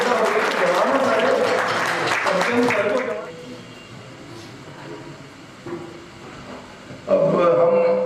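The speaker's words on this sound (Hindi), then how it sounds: "तालियां बजाइए भाई।" Audience applause at a Saraswati school event, a dense burst of clapping under a voice that stops abruptly after about three seconds, leaving quieter room sound and another brief swell near the end.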